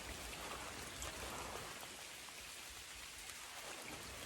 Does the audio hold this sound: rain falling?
yes